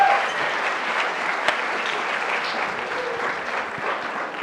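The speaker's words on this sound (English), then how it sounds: "I'd like to have a warm welcome, which means hands clapping" Steady applause from a conference audience greeting a keynote speaker, a dense, even wash of many hands clapping at moderate loudness throughout, with no talking over it.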